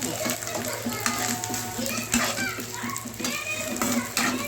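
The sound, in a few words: frying onions, green chillies and ginger garlic paste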